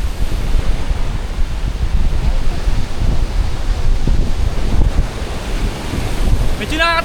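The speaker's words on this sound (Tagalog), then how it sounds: "Ay, ang lakas ng alon guys, oh." Loud, continuous roar of strong ocean surf at Polipol Beach, Bani, Pangasinan, with wind buffeting the microphone, waves churning throughout; a brief voice cuts in at the very end.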